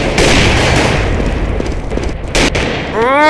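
Grenade and flashbang blasts in a first-person shooter game, a dense roar of booming gunfire with a sharp burst near the end, followed by a high ringing whine, loud and close.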